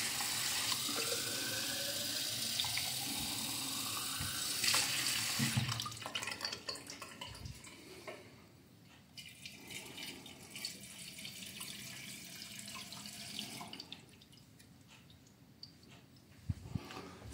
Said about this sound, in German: Also in den Mixbehälter machen wir 500 Gramm Wasser.